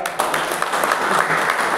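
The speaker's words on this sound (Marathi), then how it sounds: "पुन्हा एकदा टाळ्या मारा." A crowd at the inauguration of a district ranking carrom tournament claps in a dense, loud burst of applause that lasts the whole moment.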